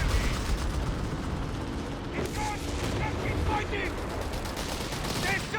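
Vickers machine gun fire in Company of Heroes 3 amid a busy battle soundscape, bursts of rattling shots mixed with explosions and mechanical clatter, with a voice talking over it.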